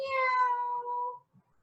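A single drawn-out meow from a human voice imitating a cat, clear and close, fading into quiet.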